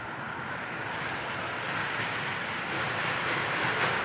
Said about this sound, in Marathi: आणि आता आपली मिनी ट्रेन येईल बघा